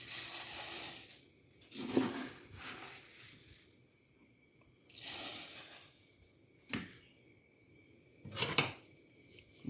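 Oats pour into a pot for oatmeal porridge in several separate rustling bursts with quiet gaps between, moderately close and without speech.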